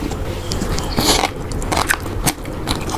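Crunchy bites into small crispy fried food, a rapid series of crackling crunches and chewing up close, loud and alone with no talk.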